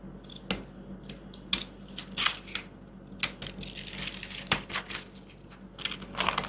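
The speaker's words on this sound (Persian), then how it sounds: "حالا دیگه میتونم اضافات رو قیچی کنم." Scissors cut away excess fabric while a sleeve pattern is being shaped, making a run of crisp, close snips and crunches in an irregular rhythm over a low hum, with no voices.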